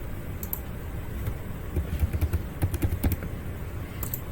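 Fingers tapping out a verification code on a keyboard while setting up an Instagram account, a short run of soft, uneven keystrokes over a low background hum, no voices.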